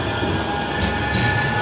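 A Manchester city centre tram rumbling past nearby, a steady broad roar with brief rises in hiss and rattle as it goes by, loud and continuous with no talking.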